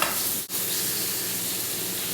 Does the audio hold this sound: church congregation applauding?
no